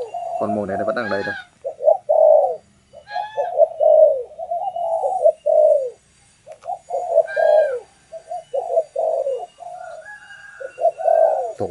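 A decoy spotted dove coos repeatedly in short rhythmic phrases near by, breeding-paired and kept by a bird trader in Bac Giang, with brief chirps from other birds between the calls.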